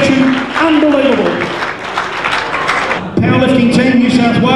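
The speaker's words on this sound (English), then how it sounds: "Let's have a round of applause for all the lifters in the bench press section." Audience applause for lifters at a 2002 powerlifting nationals bench press session, steady crowd clapping that dips briefly and then swells again, with an announcer's voice over the noise.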